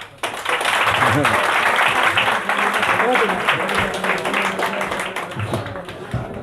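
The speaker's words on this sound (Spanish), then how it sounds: "Un aplauso para Fernando" An audience applauds a speaker at a talk on scams and pseudoscience, a full burst of clapping that starts abruptly and tapers slightly, with voices faintly audible underneath.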